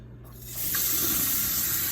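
Water from a tap sprays onto the side of a refrigerator during cleaning, starting about halfway in as a steady close hiss that continues to the end.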